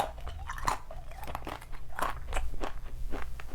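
Crunchy salted snack being bitten and chewed close to the mic, a run of crisp crunches and crackles repeating steadily through the moment, with no talking.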